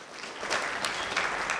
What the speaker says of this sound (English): So please let's give him another round of applause.